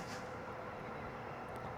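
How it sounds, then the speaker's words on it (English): A train rumbles steadily nearby at Butler station in Perth, Western Australia, a broad low roar of wheels on rails as it rolls in, with no talking. "I can hear the train. There it is there."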